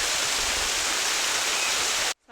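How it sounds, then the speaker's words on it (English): A small waterfall rushes steadily up close, a dense hissing roar that holds level before cutting off abruptly near the end. "there's a little waterfall up here as well"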